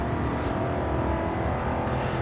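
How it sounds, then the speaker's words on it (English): A 2021 Aston Martin DBX in Forza Horizon 5 runs with a steady, close engine drone that holds at a fairly constant rev throughout, with no talk over it. "This thing makes a nice sound."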